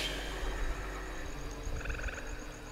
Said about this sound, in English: That is an ugly frog.